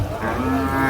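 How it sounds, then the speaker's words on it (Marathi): A racing bull at a cattle market gives a loud, close, sustained low moo lasting just under a second, with market noise behind it. "आहे बघू शकता शर्यतीचा बैल आहे"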